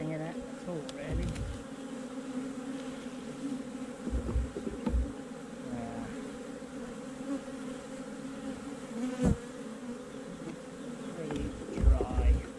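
Honeybees drone continuously around an opened hive during a summer hive check, a steady close buzz with louder passes as individual bees fly near, plus occasional handling knocks.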